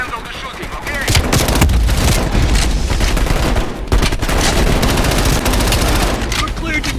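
Call of Duty Black Ops Cold War gunfire erupts in dense, continuous automatic bursts with booming impacts, loud and close, running almost the whole time as other battle noise builds around it.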